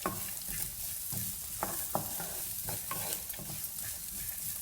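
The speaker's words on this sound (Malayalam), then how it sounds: "നമ്മുടെ നട്ട്സ് നല്ലതുപോലെ ഫ്രൈ ആവണം" Nuts and coconut roasting in a pan make a steady close-up sizzle, broken by repeated scraping and rattling as they are stirred.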